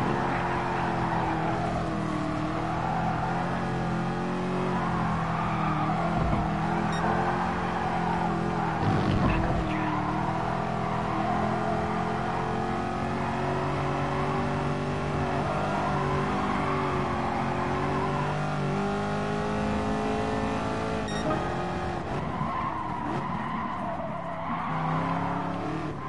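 Ferrari race car in Gran Turismo Sport with its engine droning steadily at high revs, rising and falling through the lap, with occasional tire squeal and skidding, loud and close throughout.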